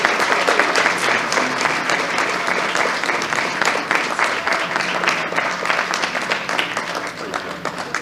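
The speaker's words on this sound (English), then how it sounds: "I accept applause" An audience claps and applauds steadily at an event, dense and loud throughout the whole stretch without a break.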